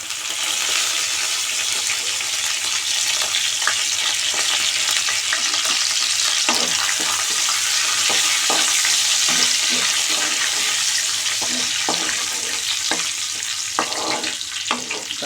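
Pepper, cumin and curry leaves sizzle and crackle in hot oil for rava pongal, a dense, continuous frying hiss close by, with scattered pops and stirring scrapes and no voices.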